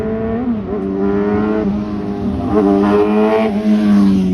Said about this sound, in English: Ooh, that's a very loud motorcycle.